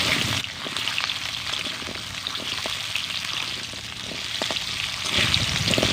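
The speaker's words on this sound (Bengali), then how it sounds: "এবার আমি আমড়াগুলোকে ভেজে নেব" Chopped hog plums (amra) fry in hot oil, a continuous close crackling sizzle with intermittent stirring scrapes and clicks, slightly louder toward the end.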